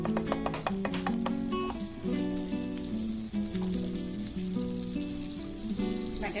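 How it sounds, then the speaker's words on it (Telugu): Butter melting and sizzling in a pan for chicken tikka masala: a close, steady frying hiss with bubbling crackle and occasional scraping clinks, continuous throughout. "ఇప్పుడు ఒక పాన్ పెట్టుకొని ఇందులో బటర్ యాడ్ చేసుకున్నాము"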